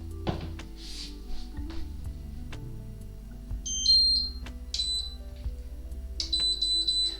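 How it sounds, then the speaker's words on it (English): Loud electronic alarm beeps sound in short bursts, sharp and close, over a low steady hum with a few scattered thuds. "I noticed the beeping is quite loud, so sorry about that"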